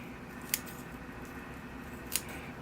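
Two sharp, close scissor snips trimming bonsai roots, spaced well apart over a soft background hiss.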